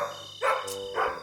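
A cartoon dog barks twice in a quiet stable scene, two short, fairly loud yaps spaced about half a second apart, alone without talk.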